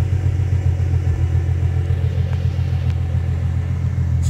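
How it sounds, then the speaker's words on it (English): A 2013 Ford Mustang convertible idles with its exhaust rumbling close by, a steady low throb that holds evenly with no speech. "See, it has a nice exhaust on here."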